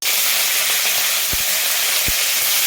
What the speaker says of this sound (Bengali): তো সামান্য পরিমাণ জিরে ফোড়ন দিলের মধ্যে মা আদা কুচি দিয়ে নিল, সুন্দর করে এটাকে ভেজে নেবে মা।